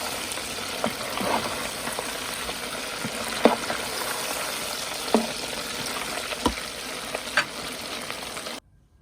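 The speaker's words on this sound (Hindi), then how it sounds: "और बाकी का जो चिकन है वो भी दिखाती हूँ, वो भी फ्राई हो रहा है।" Chicken strips deep frying in hot oil give a steady, dense sizzle, with scattered sharp pops and crackles rising above the bubbling; no one speaks.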